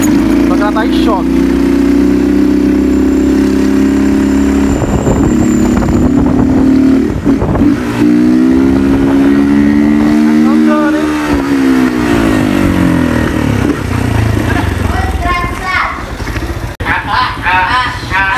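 A motorcycle engine revs and idles close by in a continuous, loud, wavering drone with rising and falling pitch, and Portuguese speech comes over it.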